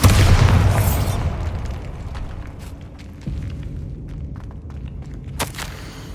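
A Bombarda blasting spell in Hogwarts Legacy explodes with a loud, booming burst at the start, then a rumbling decay and scattered debris clatter that fades over several seconds, with a later crackle.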